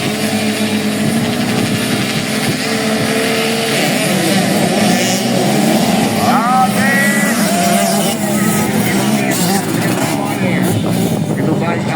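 Engines of 85cc Special Engine class motorcycles racing on a grasstrack in Inhu, Riau, a continuous loud drone with rising and falling revs, under fairly steady announcer commentary.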